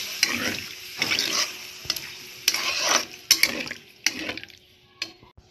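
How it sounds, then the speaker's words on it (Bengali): Spices frying in a pan with spatula stirring in bursts of scraping and sizzle, then water poured in with a sharp hiss before the cooking settles quieter. "এটা ভাজা ভাজা হয়ে গেছে, এবার একটু জল দেবো। জল দিয়ে ভালো করে এটা সিদ্ধ করব।"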